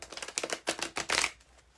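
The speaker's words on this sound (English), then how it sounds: "So let me get these cards shuffled." A deck of cards being shuffled at close range, a quick run of crisp riffling bursts and soft flutters that die away into quiet.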